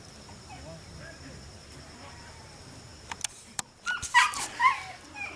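Puppies give a few high whimpers and short yips close by near the end, after a quiet outdoor stretch with faint background noise and a couple of sharp clicks.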